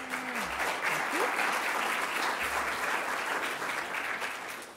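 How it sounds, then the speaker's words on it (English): A conference room full of people clapping warmly, sustained and fairly loud, fading slightly at the end. "You've actually given these guys some lovely applause."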